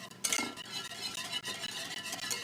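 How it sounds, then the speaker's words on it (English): Whisk stirring a pumpkin crème brûlée custard mixture in a bowl, a steady close scraping and clinking of metal against the bowl, continuous for a couple of seconds with no talking. "now we're going to get out the whisk and whisk this all together."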